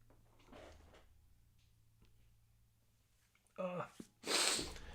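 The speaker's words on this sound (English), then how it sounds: "I'm going to sneeze here." A single sharp sneeze bursts out loudly at the end, preceded by a quick sniffing inhale; faint murmuring sits earlier in the quiet background.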